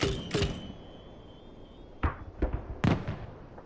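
Artillery barrage explosions from a Demolisher in the video game Starship Troopers Extermination: a few sharp, separate blasts, two early and three more in quick succession later, fairly faint against a quiet background.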